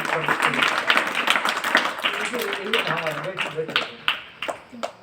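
Scattered applause rings out for a schoolgirl at a Gandhi Jayanti school function in Garur, with sharp claps breaking through over steady talking.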